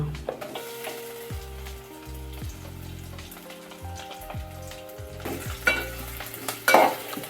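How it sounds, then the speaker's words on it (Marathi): Garlic and onion sautéing in a pan, a continuous sizzle with stirring scrapes and a few clattering knocks, close by, growing busier toward the end, no one talking. "लसूण टाकूया. थोडासा कांदा टाकूया."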